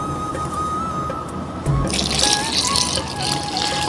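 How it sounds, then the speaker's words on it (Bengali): Water is poured into a bowl of flour, salt and milk powder, starting as a soft trickle and swelling into a steadier, louder splashing pour, with no talking. "এর ভিতরে পানি অ্যাড করব।"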